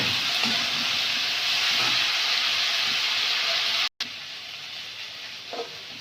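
Grated radish vegetables frying in a pan with salt and chili powder, a steady loud sizzling hiss throughout with faint stirring clinks, briefly cutting out near the end.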